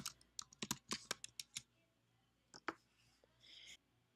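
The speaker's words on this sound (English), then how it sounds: "Please enter your password to finalize the report." Quiet bursts of typing on a computer keyboard, a quick run of crisp key clicks followed by a pause and a few more scattered presses, close and isolated.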